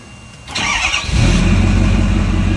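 Truck engine fitted with a FASS fuel system starts up and settles into a steady running rumble, close and fairly loud, with no talking.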